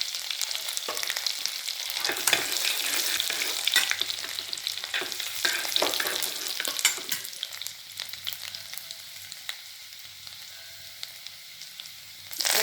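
Cumin, two dried chillies and finely chopped ginger and garlic frying in oil for dal tadka, a bright, dense close sizzle with stirring scrapes, easing to a lighter crackle toward the end.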